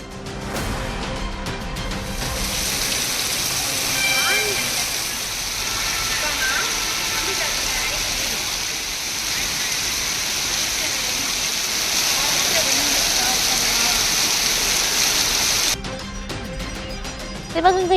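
Heavy monsoon-style rain pours over Velachery, Sholinganallur and Thoraipakkam in Chennai as a dense, steady hiss of falling water that holds for the whole stretch before dropping off briefly near the end.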